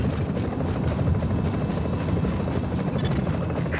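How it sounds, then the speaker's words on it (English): An evac helicopter arrives in the video game The Division, its rotor producing a loud, continuous chopping roar that stays steady throughout with no talk over it. "Evac helicopter incoming."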